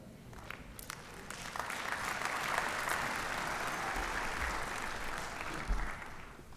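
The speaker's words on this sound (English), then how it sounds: "You clap." Audience applause during a university inauguration speech, a broad wash of clapping that swells and holds steadily, heard from across a large hall with no talk over it.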